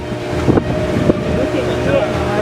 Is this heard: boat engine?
yes